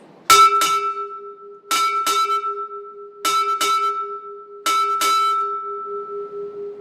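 A ship's bell rings eight times in four evenly spaced pairs of clear, ringing strikes, close and loud, with a sustained tone fading at the end.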